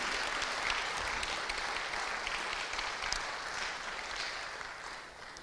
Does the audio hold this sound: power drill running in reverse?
no